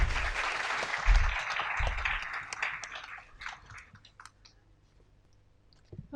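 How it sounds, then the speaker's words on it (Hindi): Audience applause for the poet Mansi Mishra at a Hindi campus poetry event, a loud dense burst at first that thins into scattered claps and fades out. "मानसी के लिए ज़ोरदार तालियां हो जाए।"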